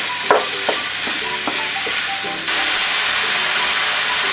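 Minced meat for a meat pie filling sautés in a pan with a loud, hissing sizzle, a few scraping stirs and clacks early on, then a steady broad hiss.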